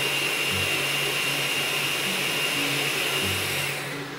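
Kitchen blender purées cilantro and corn into a thick green base for a corvina dish, a continuous loud motor whir with a steady high whine that holds throughout and tapers slightly at the end.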